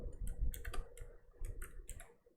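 Someone typing on a computer keyboard, a quick irregular run of crisp key clicks in small bursts with short pauses, close and fairly quiet.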